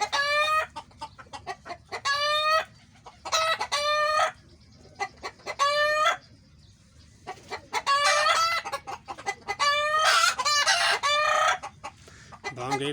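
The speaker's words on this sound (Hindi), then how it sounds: "भांगे भी हैं और मुर्गियां भी हैं" Desi chickens and roosters on a small village poultry farm, heard close by: loud, repeated crowing calls in bursts, with clucking between them over a low background murmur.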